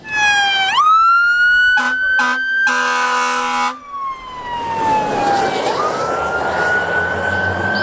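A toy fire truck siren wails with rising and falling electronic tones, broken by a brief burst of beeping, loud and close and alone.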